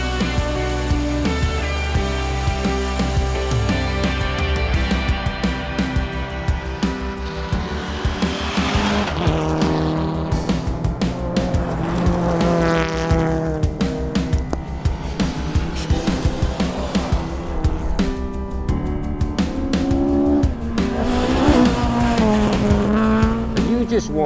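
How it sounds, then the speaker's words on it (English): Rally cars racing on a gravel road up and over Mount Dare at the Rally of the Heartland, Australia, with loud engines revving and roaring past close by, tyres skidding on loose gravel, and a continuous dense engine drone throughout. "Wow, what a place to watch rally cars."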